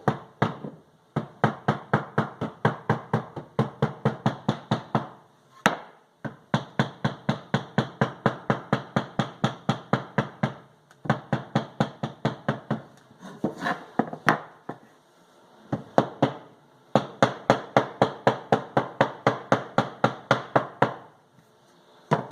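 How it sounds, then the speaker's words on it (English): Steady rapid hammer taps on leather while making a stitching pony, in long runs with short pauses between, a dull knocking on a soft surface, close by with no talking. "And if you want to, you can hammer it down a little."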